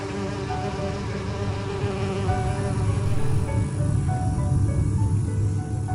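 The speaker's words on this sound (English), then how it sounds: "The bees are now fast asleep." Bees swarm and buzz steadily around a beehive in the video game And Then There Were None, a dense, continuous drone that holds close and fairly loud from start to finish, with no talking over it.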